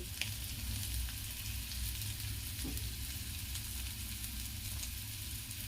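Potatoes and peas frying in a pan for a dry aloo matar dish give a steady, close sizzle throughout, with a few faint stirring scrapes and no talk.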